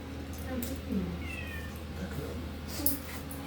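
A cat meows several times at a veterinary clinic in Devrek, short moderate cries scattered over quiet room noise while people talk nearby.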